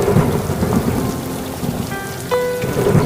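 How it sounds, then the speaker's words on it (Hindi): Heavy rain falls steadily with a dense, loud hiss while low rumbles of thunder roll beneath it, and a brief tonal whine appears near the end. "रास्ते में तेज बारिश होने"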